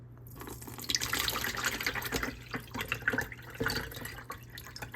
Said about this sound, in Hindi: और अब इस पानी को आप किसी भी बर्तन में छान कर निकाल लें।